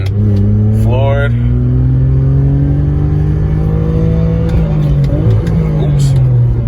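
A BMW E46 drift car's engine climbs from about 4,000 RPM to full throttle, a loud steady rising drone heard from inside the cabin, then easing off near the end with faint talk over it.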